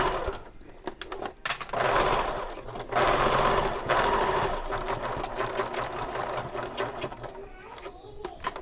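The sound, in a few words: sewing machine top stitching over pleats of a bag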